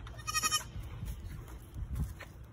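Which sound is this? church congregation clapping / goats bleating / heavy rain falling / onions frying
goats bleating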